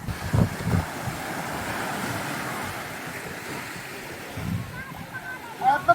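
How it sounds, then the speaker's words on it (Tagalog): Large ocean waves rolling onto a beach at Puerto Galera, a steady wash of surf with wind buffeting the microphone, and a few louder swells rising near the start and end. "Ang laki na ng alon."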